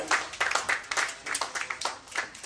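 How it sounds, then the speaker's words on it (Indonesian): Applause from an audience at a signing ceremony, a steady patter of many hands clapping at once, fairly close and lively throughout. "Tepuk tangannya para hadirin"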